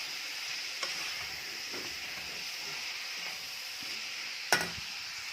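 Minced meat frying with onion and black pepper in a pan, a steady close sizzle and hiss with a few soft stirring scrapes and one sharper clatter near the end.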